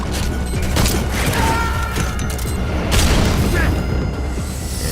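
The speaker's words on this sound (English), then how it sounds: "And we're hit by a stun grenade." A stun grenade goes off during online play in Metal Gear Solid V: The Phantom Pain, with a booming burst and crackling impacts over dense game noise and a voice.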